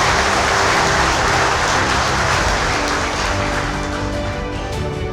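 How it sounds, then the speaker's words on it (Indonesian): An audience at a formal public address applauds loudly and continuously, a dense wash of many hands clapping that holds for several seconds and fades only slightly toward the end. "Aplaus untuk semua yang ada di sini."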